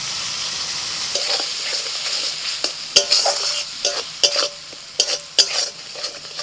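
Spice paste mixed with water hits a pan of fried tomatoes, giving a soft continuous sizzle with a sudden louder hiss, then repeated stirring scrapes and taps of a spoon against the pan, close by.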